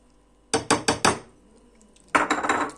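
Utensil clinking against a bowl while stirring cauliflower bake batter with flour, cornmeal, grated carrot and dill, four quick sharp knocks, a pause, then a faster run of clattering strokes nearby.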